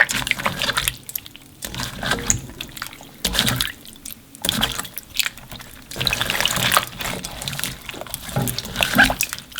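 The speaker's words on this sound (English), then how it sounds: "So now take all the juices and pour it in all the slits that we made in the grooves." Meat juices poured by hand over salt-cured beef into its slits, giving wet splashing and dribbling in uneven bursts with short pauses, close and moderately loud.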